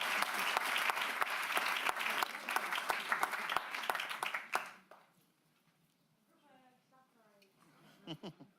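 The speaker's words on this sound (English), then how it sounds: "Huge round of applause for this group." A county board of supervisors meeting breaks into loud, dense applause for a group for about four seconds, then it stops abruptly. Quiet room noise and faint voices follow.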